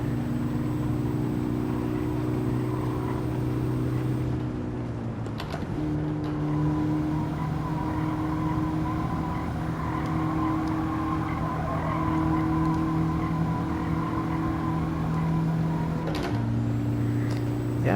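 Race car engines drone steadily in Gran Turismo 7, a sustained loud motor hum that shifts pitch with gear changes, with tire squeal mixed in and no talking.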